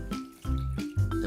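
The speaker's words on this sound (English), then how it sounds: "Now we add warm milk" Warm milk poured into a bowl of mashed potatoes, a short liquid splash and trickle in a few close bursts, no voices.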